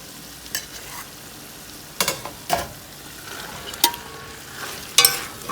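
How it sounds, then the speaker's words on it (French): Carrots tipped into a pan of softened vegetables for a boucané carrot dish, stirred with scattered scraping clinks and bumps over a faint low sizzle, the stirring knocks spaced out and fairly close. "Donc, on va rajouter les carottes."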